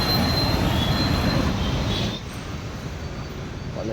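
Loud metro train rolling on the rails with a steady wheel squeal and rumble, easing to a quieter rolling noise about halfway through; no voices.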